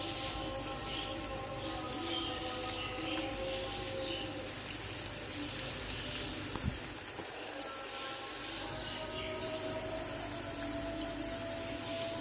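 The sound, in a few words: besan (gram flour) pakoras frying in hot oil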